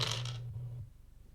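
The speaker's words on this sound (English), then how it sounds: "That's why we roll physical dice on this, because you can hear them" Physical dice tumbling on a tabletop during a tabletop roleplaying session, a quick burst of bright clatter and ringing that settles within a second, fairly faint and heard alone.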